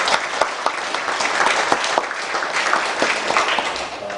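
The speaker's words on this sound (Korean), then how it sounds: "우리 찬양대 경의의 박수 한번 드리도록 하겠습니다." A church congregation applauds the choir, a short burst of steady clapping from a room full of people.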